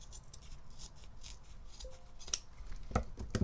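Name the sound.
cutting sash material evenly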